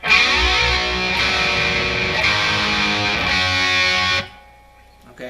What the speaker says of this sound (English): As soon as it gets to that last G, the distortion kicks back on